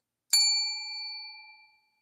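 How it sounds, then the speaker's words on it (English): A single bright strike of a small bell rings out alone in a quiet room, its clear tone fading over about a second and a half. "Did I ring the bell?"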